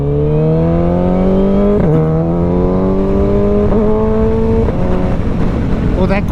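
A 2024 25th Anniversary Suzuki Hayabusa accelerates hard, its engine note climbing loud and close, broken by three or four crisp quick-shifter gear changes before pulling higher again.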